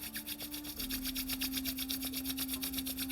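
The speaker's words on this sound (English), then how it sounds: "Rub your palms." Palms rubbing briskly together in a quiet yoga session, a steady run of close, even swishing strokes in a fast rhythm over a low background hum, with no talking.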